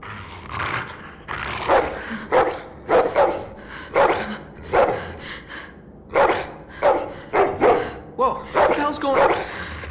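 Dogs bark in a game scene from The Walking Dead: The Final Season, a steady series of loud, repeated barks across the whole stretch, with voices speaking over parts of it.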